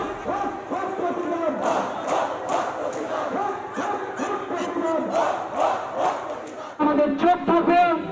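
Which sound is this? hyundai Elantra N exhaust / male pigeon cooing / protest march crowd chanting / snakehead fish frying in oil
protest march crowd chanting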